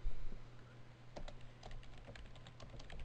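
Computer keyboard typing while editing an entry in reference-management software: a quick run of close, fairly quiet key clicks in a loose, uneven rhythm over a low steady hum.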